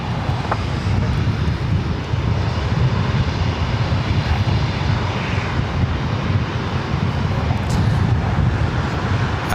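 A Southwest Airlines Boeing 737-700 airliner takes off at LAX, bound for Sacramento. Its engines give a strong, steady roar that stays even and fairly close for about ten seconds, with no talking.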